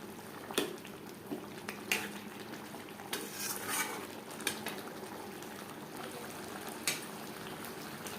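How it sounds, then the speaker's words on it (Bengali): Chicken biryani marinade and spices cook in a pan over a high flame: a spoon scrapes and clinks against the metal now and then over a soft, steady sizzle, close and moderately quiet. "ম্যারিনেশনের বাকি মশলাটা হাই ফ্লেমে পাঁচ ছ মিনিট রান্না করে নেব"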